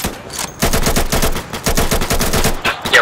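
Automatic gunfire in a tactical shooter game, Insurgency: rapid, close bursts of shots firing continuously for a few seconds, loud and dense, with no voices heard.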